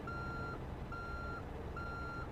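A pickup truck's reversing alarm beeps three times in a steady rhythm while backing out of a three-car garage, each tone clear and evenly spaced over low engine rumble.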